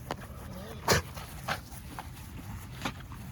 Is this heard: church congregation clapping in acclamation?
no